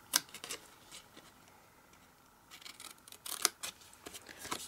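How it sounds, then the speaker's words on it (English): Scissors snipping through card stock toward a score line while making a treat pouch, a few quiet, separate crisp cuts with soft rustling of the card in between. "We want to cut up to the second score line"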